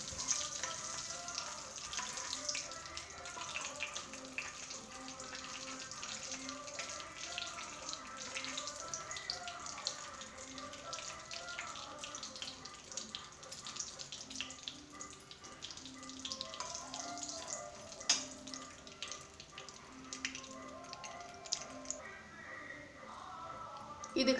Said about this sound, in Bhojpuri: ये देखा जाए हम हींग डाल दे बाटी तड़का लगे के